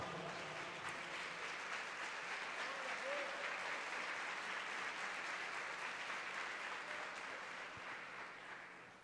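Steady applause from a large church congregation fills the room for several seconds, sustained and even, fading slightly toward the end.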